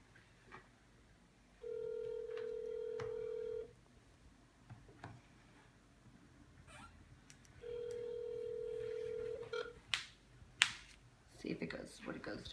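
A telephone call ringing out before reaching voicemail: two long, steady electronic ring tones separated by a pause, with faint room noise and clicks between them and a brief voice near the end.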